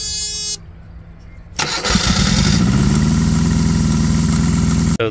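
A Perkins engine on a green APU cranks and catches after a quiet pause, then settles into a loud, steady close-up idle that runs to the end with a brief dropout near the finish.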